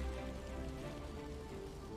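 A hailstorm spell in the video game Divinity: Original Sin, a dense steady patter like ice pellets or heavy rain striking the ground, constant and moderately loud through the moment.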